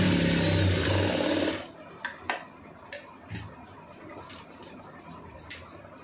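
A sewing machine stitching blouse lining runs in one steady loud burst for about a second and a half, then stops, followed by a few quiet clicks and handling sounds nearby.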